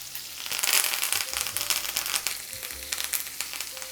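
Garlic and a rosemary sprig drop into a hot pan with chicken and sizzle loudly, a dense crackling fry that swells near the start and keeps hissing steadily throughout.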